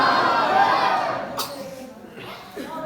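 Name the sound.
crowd responding to Nara-e-Takbeer chant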